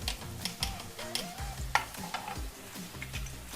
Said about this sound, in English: You don't want the garlic to be burnt, so you just want it to like fry for maybe 1 minute